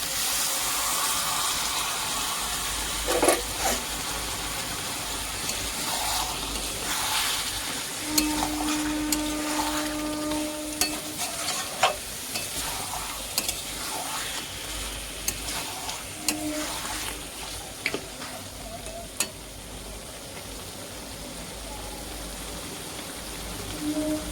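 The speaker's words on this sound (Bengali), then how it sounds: "এবার আমি মশলা ধোয়া জলটা এখানে দিয়ে নেব" Liquid from rinsing the spice bowl is poured into a pan of frying turtle meat, giving a steady sizzle with scattered stirring clatters and bubbling over about twenty seconds.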